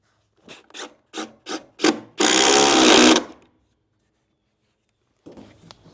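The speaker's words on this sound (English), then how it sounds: "And I'm only drilling through the face plate." A power drill bores through the face plate of a wooden shed ramp for a lag bolt, starting with several short pulsed bursts and then one loud sustained grinding run, followed by quiet and faint rustling.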